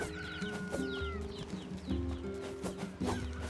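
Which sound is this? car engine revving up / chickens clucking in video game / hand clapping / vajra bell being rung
chickens clucking in video game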